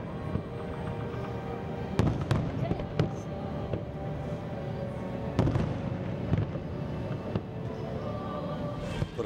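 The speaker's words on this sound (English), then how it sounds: "when the shell goes up in the air, that time fuse burns about 3 seconds, hits a braking charge in the middle of the shell" Firework shells burst in the air during a large display launched from a bridge and two barges, with several sharp, distant booms and crackles scattered over a steady rumbling background.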